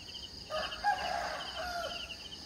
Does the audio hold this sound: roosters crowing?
yes